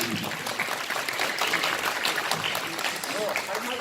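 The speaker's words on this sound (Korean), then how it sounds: "박수 한번 부탁드립니다." An audience at a Korean food storage and distribution society meeting applauds an honorary professor of Kyungpook National University who founded the society; steady, fairly faint clapping runs throughout beneath a speaking voice.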